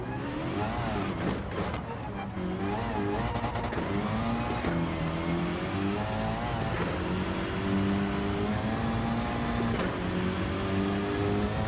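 A turbo car driven on a dirt course in Gran Turismo 7, with a loud, continuous engine note rising and falling through gear changes, revs surging during sliding, and occasional sharp hissing bursts.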